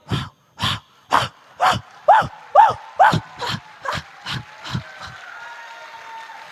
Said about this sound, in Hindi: शाम होते होते कुत्तों की जो आवाज थी, वो जो सुबह वाव वाव, दोपहर को वाव वाव